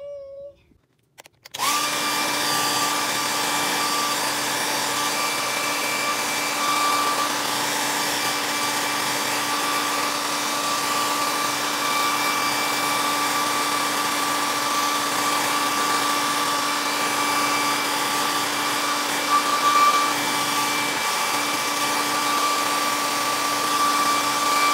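A hair dryer blows steadily on plush Beanie Boo toys, switching on abruptly after a brief quiet moment and then holding a loud, even whirring roar to the end.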